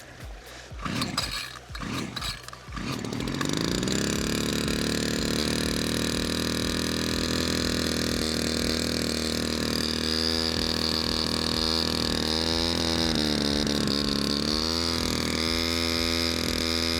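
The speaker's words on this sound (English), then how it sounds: "right now it's pumping water up in elevation. So it's under its hardest working load right now" An engine-driven water pump starts after a few sputtering pulls, then settles into a loud, steady droning roar under hard load pushing mountain water uphill to cisterns, running alone and close by.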